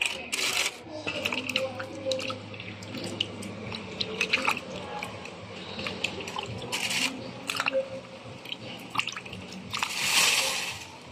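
Cassava roots being soaked and washed in a basin of water to loosen clinging mud, giving soft splashes, drips and wet squelches near the microphone, with brief handling knocks and a louder sloshing burst near the end.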